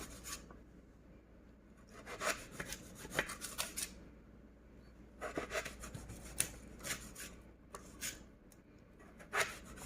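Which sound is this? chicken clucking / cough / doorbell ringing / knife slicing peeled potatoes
knife slicing peeled potatoes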